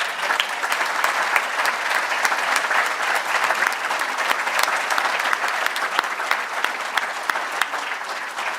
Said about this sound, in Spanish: Les pido que le den un aplauso.